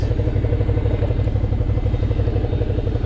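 A Suzuki V-Strom 650 motorcycle engine runs steadily and close by off-road, with a throbbing low rumble and light mechanical clatter throughout, without a clear rise in revs.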